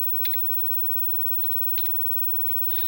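Scattered keystrokes on a computer keyboard, a few light, sparse clicks and a short quick cluster near the end, quiet and with no talking.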